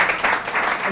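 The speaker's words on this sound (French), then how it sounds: "est-ce qu'on peut applaudir pour Mbia?" Short, dense applause from a school audience for a student during a school competition, many hands clapping together at moderate loudness.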